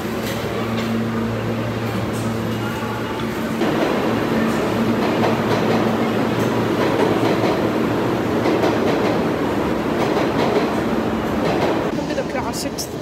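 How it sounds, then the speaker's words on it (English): A New York subway train rumbles steadily with a rattling, clattering roar and a low hum, continuous throughout, with talking faintly underneath. "Welcome to the classic New York subway."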